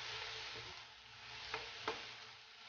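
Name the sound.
tomatoes and green chillies sautéing in a pan for biryani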